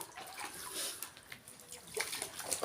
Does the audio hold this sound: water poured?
yes